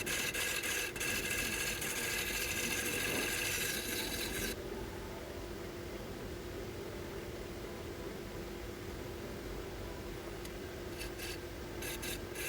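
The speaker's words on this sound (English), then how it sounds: "I'm doing the basic shaping here, using 3 different chisels" Chisels scrape and rasp steadily against dense purpleheart wood while shaping a didgeridoo mouthpiece, a continuous close gritty texture that softens partway through, with brief sharper scrapes near the end.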